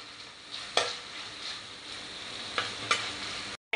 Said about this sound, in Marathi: हे लालसर होईपर्यंत आपल्याला परतवायचं आहे 2 ते 3 मिनिटं